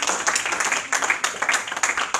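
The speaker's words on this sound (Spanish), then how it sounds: "O cuando dan ese aplauso al Señor Jesucristo." Church congregation clapping in a worship service, a dense, lively patter of many hands applauding steadily with rhythmic surges, moderately close and without talk.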